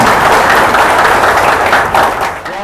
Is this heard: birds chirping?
no